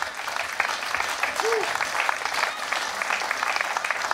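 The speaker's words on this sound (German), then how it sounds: "das ist ein Applaus wert, oder?" Applause from an audience at an open bakehouse day at a mill, a steady dense patter of many hands held at an even level, with a voice briefly rising over it partway through.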